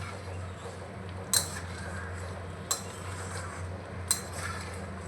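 A metal spoon stirs lentil and potato curry with a freshly added tempering in a cooking pot, giving soft scraping and three sharp clinks against the pot rim at spaced intervals over a low steady hum.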